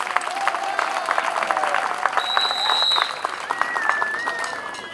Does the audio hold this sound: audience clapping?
yes